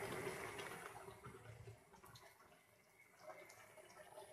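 Water poured over pasta in a kazan on a stove, a faint continuous splashing and trickling that swells and eases, heard alone at low level.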